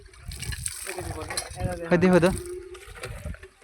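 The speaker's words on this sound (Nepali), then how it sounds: "पानी राम्रो आएन क्या हो नि" Murky water runs from a pipe in a steady gush under ongoing conversation, with a brief louder surge in the middle, heard close up outdoors.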